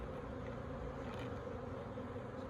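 Honey bees buzz around an open hive being packed down on a frosty morning, a steady dense hum that fills the whole moment, close and continuous with no voices.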